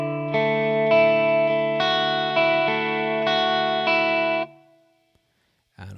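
An electric guitar with distortion plays the first verse line of a song as a steady run of six chord strums, loud and close, ending in a short decay and a brief noise at the end.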